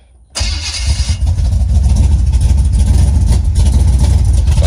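A 1976 Chevy C20 pickup engine cranks briefly and fires, settling into a loud, steady rumbling idle close by with no talking.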